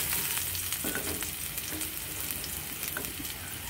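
Garlic frying in a pan while cooking ampalaya with egg: a steady, close, loud sizzle with crackling spits and occasional stirring scrapes throughout.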